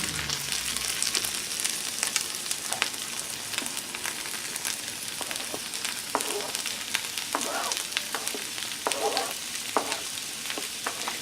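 Pepper and onion fry in a pan for a frittata, giving a steady, moderately quiet sizzle with scattered crackles and a few soft stirring scrapes, and no voices.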